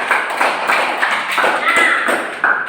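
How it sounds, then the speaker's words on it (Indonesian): A classroom group claps for a student group, giving a steady patter of many hands that stays even and fairly close for a few seconds. "Tepuk tangan untuk kelompok 2 dulu"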